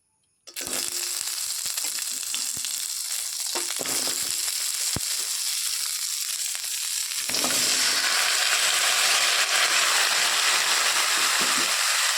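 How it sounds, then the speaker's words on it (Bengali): Mixed vegetables dropped into a little hot oil in a wok sizzle loudly and steadily, with a sharp hiss at the start and an even stronger fry rising partway through, close and with no talking. "এবার কড়াইটার মধ্যে একটু তেল দিয়ে এক এক করে সবজিটা দিয়ে দেব"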